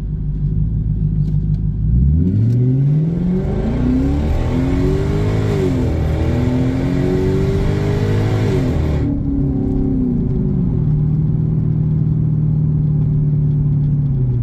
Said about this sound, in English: Now you can hear the downshift.